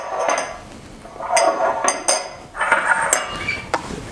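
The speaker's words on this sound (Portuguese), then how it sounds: "Vou tirar esses copos da frente." Drinking glasses are moved aside on a kitchen counter while bread dough is made by hand, giving several close, bright clinks and knocks spread irregularly across a few seconds.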